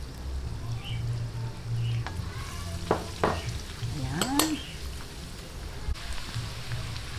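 Garlic sautés in butter in a pan, a faint steady sizzle with a few stirring scrapes and clinks of a utensil, no talking.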